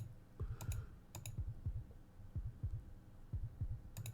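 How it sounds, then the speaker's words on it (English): A rapidly pounding heartbeat sound effect from the visual novel Root Double, with low double thumps repeating in a quick, steady rhythm and faint clicks above. "His heartbeat skyrocketed."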